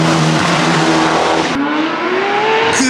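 A rally Polo fitted with a Mitsubishi engine roars past loudly and close, its engine note rising through revs, a brief gear-change cut mid-pass, then climbing again as it drives away.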